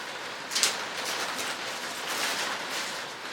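Rain falls at Loch Fyne in a steady, even hiss of drops that stays moderately loud throughout, with one brief sharper patter near the start and no voices.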